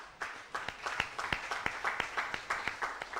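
Church congregation clapping in a steady rhythm of sharp hand claps at moderate distance, with a faint wash of cheering behind the beats.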